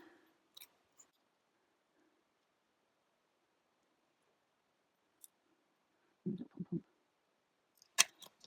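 Scissors snipping paper for a doodled bear card, a few faint scattered clicks followed by a short cluster of close cutting crunches and a final sharp snip, in an otherwise quiet room.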